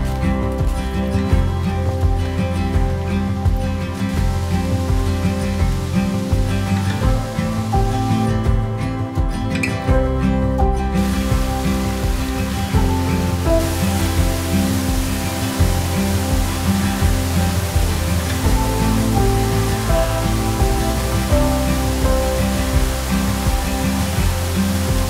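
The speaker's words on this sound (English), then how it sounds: "We're down to waterfall number 5, the last one. It's called Coal Mine Falls" Coal Mine Falls waterfall in Bankhead National Forest, a continuous broadband rush of falling water, steady and fairly loud for the whole stretch, with no voices.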